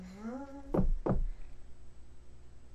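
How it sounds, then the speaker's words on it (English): Two light, close knocks land on a door in quick succession, right after a voice, followed by quiet room sound. "I want to knock lightly."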